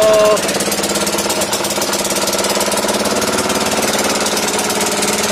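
A motor-driven mixer churning charcoal binder for briquettes runs loud and close, a steady rumbling, knocking engine drone that holds without a break.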